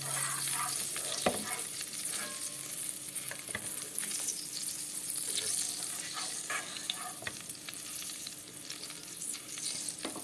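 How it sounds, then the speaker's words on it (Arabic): Ghee melting and frying in a pan for homemade liver, a continuous soft sizzle and crackle with occasional sharp pops and stirring clicks, alone without talk. "واخليها تسيح كده زي ما حضرتك شايفة. اهم حاجة السمنة تتقدح كويس قوي."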